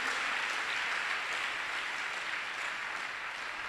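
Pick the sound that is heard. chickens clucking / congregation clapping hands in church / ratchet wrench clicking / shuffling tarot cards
congregation clapping hands in church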